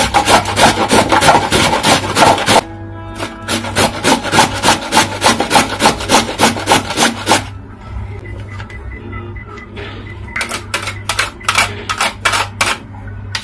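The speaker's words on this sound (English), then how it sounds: "I'm just going to use the coarse part of my grater over here to grate this." A carrot is grated on the coarse side of a grater with fast, steady rasping strokes that run continuously, pause briefly, then resume in shorter bursts, close and fairly loud.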